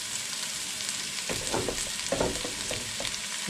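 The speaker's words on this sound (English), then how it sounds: "And then I'll start sauteing the onions, garlic, and ginger all together." Onions, garlic and ginger sauté together in a pan for a redfish curry, giving a steady close sizzle with a few louder stirring bursts in the middle.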